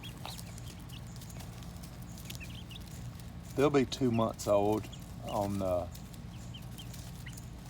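Young Bielefelder chickens, about two months old, cluck in a short burst of several calls while pecking at lettuce, heard beneath a person talking over steady background noise.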